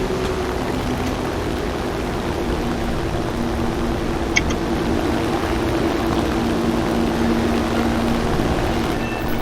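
German bomber aircraft in War Thunder, its propeller engines droning in a steady, continuous hum throughout, with no talk over it.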